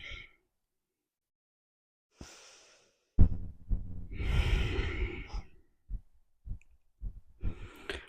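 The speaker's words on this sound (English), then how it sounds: "Breathing deeply." Deep breathing during a gentle yoga session in bed, long breathy inhales and exhales close to the microphone, mixed with soft rustling and a few thumps from movement, no talking.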